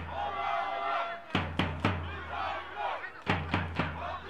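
Football crowd at a stadium during a Premier League match, a distant rumble of chanting and cheering punctuated by several sharp rhythmic claps or drum hits in two bursts.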